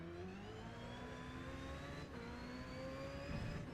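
A race car engine in Gran Turismo 7 holds a steady, droning note that climbs slowly in pitch as the car accelerates, with a brief dip partway through.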